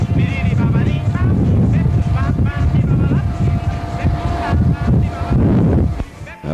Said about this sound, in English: it's still quite breezy and windy there, and difficult to hear what I was saying